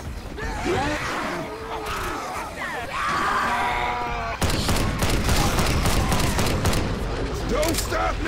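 Rapid gunfire rattles throughout in the game Left 4 Dead 2, at first mixed with groans and shrieks of infected at a shanty town barricade, then dense sustained bursts of shots dominating, loud and close, with shouted voices.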